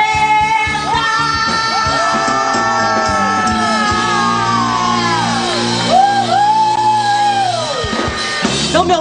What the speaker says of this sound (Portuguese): Babado, confusão e gritaria.